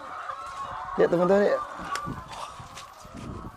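Ayam Ketawa laughing chicken crowing once in a short burst of rapid, stuttering cackles, heard near, with someone talking before and after it.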